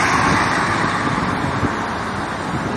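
A vehicle, probably a truck, rolls past on a road in a small riverside town, a steady broadband roadway roar that stays loud and close throughout with no talk over it.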